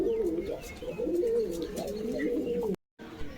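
Green Giribaz pigeons, tails trimmed, coo in a close, low, warbling stream of repeated calls, faint chirps over it, ending in a short silence.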